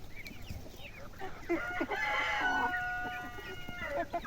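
A rooster crows loudly nearby, a long drawn-out call with harmonic tones, amid background clucking and farmyard noise.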